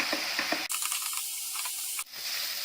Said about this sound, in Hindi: प्याज को लाल होने तक भूनेंगे